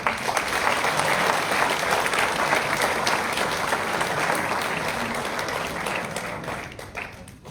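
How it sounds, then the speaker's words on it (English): A convocation crowd at IMI Bhubaneswar's 10th annual ceremony breaks into a long, full round of applause, sustained and close, that tapers gradually toward the end. "again, a big round of applause"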